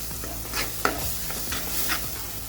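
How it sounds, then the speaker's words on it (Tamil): A ground onion-tomato masala paste fries in oil with a soft, constant sizzle while a spoon stirs it in a few slow, scraping strokes, close up and fairly quiet. "லைட்டாக மிக்ஸ் பண்ணி விட்டுருங்க"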